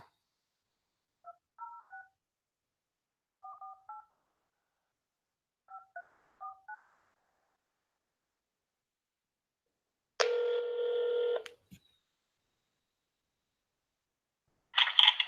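Telephone keypad tones dial a call to an ADL office in Seattle, three short clusters of beeps separated by pauses, followed by a longer buzzing tone and a brief final burst.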